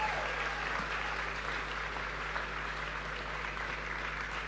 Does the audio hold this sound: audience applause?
yes